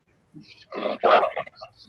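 A dog barks and whimpers a few times in a short close burst, the yelps coming through a call connection with muffled room sound.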